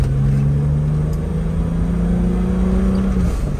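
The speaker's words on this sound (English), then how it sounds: "a lot of fun to listen to that straight six, roll the gears" A 1984 BMW 633CSi with a straight-six engine and five-speed gearbox pulls steadily under acceleration, a loud, close, continuous drone holding a rising tone for a few seconds with no talk over it.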